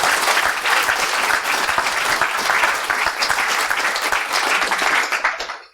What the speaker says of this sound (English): I want to have one more round of applause to all the organizers